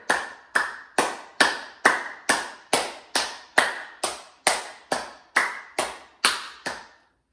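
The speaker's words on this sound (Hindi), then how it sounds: "हम तालियां कई प्रकार से बजा सकते हैं।" Steady hand claps, about fourteen evenly spaced sharp slaps with a slight ringing tail, close and alone with no talking, as in a hand yoga clapping exercise.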